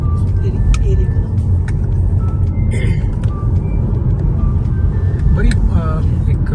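Steady road traffic at night in Victoria, London, a continuous broadband rumble of passing cars, trucks and buses, with occasional higher tonal whines and a brief chirping tone near the end, constant and fairly loud throughout.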